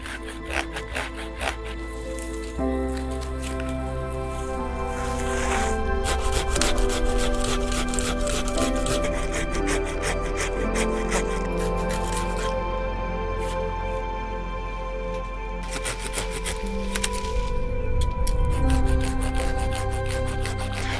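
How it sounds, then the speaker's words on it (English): A small hand pruning saw cuts through shrub limbs during an autumn garden clear-up. Close, rhythmic back-and-forth rasping strokes carry on steadily, with no talk. "time to get started with the pruning saw and get rid of some of these limbs."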